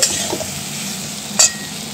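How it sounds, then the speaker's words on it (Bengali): Potatoes with salt stir-fried in a hot pan at home, a steady close sizzle with a scrape of the spoon near the middle. "নুনটা দিয়ে নিচ্ছি, দিয়ে কষিয়ে নিচ্ছি যাতে আলুর মধ্যে বেশ সুন্দর নুনটা ঢুকে যায়"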